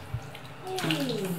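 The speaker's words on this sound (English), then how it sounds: "Oh, big splash." A three-month-old baby splashes in bath water at bath time, a soft knock early on and then a sustained, close watery wash, with a voice sounding over the splashing.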